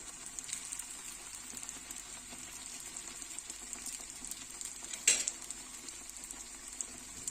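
Rava snack frying and puffing up in hot oil, a faint, continuous sizzle with one sharper crackle partway through.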